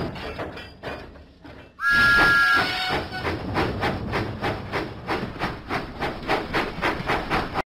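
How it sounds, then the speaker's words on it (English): A steam engine in a Thomas and Friends video game lets out a sharp, loud whistle, then chuffs in a steady, rhythmic puffing beat that continues to the end, with no talk. "Thomas pumped his pistons and puffed out of the docks"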